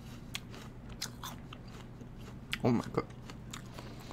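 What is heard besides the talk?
biting and chewing a crunchy NY Ruby Frost apple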